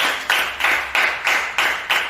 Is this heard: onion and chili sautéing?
no